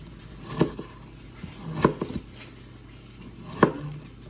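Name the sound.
cutting onions smaller with a knife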